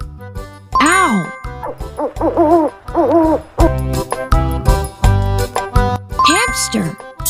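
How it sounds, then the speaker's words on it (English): An owl hoots in a children's animal-sound matching game, short rising and falling calls heard over a bright, jingly backing tune with game sound effects. "Owl."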